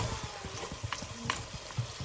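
Crab curry simmers in oil under a covered pot, with a steady low bubbling and rhythmic soft thumps, plus a couple of faint brief clinks, all at close range with no voices.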